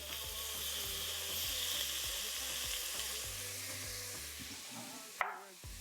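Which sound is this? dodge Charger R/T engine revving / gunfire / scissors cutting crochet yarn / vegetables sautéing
vegetables sautéing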